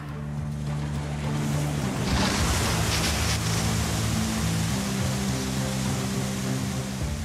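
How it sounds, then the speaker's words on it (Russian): Water rushing through a gold mining sluice plant on a large barge, a loud, steady wash of flowing water over a low mechanical drone of machinery, swelling briefly partway through. "Тайсон, включай воду."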